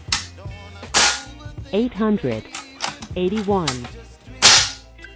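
An FX Wildcat Compact .22 caliber air rifle fires three sharp, loud, close cracks spaced a few seconds apart, with someone speaking in between.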